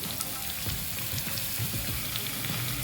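Tomato and green chillies sizzle and fry in a pan for an egg masala curry, a steady crackling hiss with small pops throughout, close and moderately loud with no talking.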